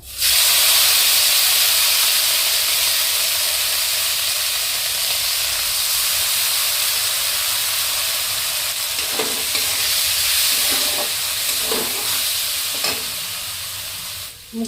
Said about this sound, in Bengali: তেলে এবার মুগ ডালটা ভেজে নেব